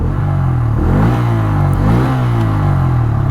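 A 2024 Bajaj Freedom 125 motorcycle running in CNG mode revs its exhaust up and down a few times. The single-cylinder engine gives a loud, close, steady low burble, rising and falling in pitch.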